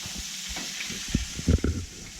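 Garlic and unopened primrose flower buds fry in butter with a soft, steady sizzle, broken by a few brief stirring bumps and scrapes partway through.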